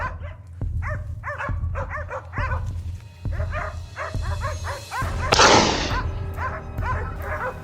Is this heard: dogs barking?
yes